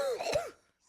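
A single short cough from a man close to the microphone in a quiet room, followed by silence.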